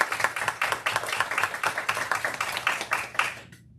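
A school board meeting audience gives a round of applause, steady moderately close clapping from a modest group that keeps an even pace before stopping abruptly.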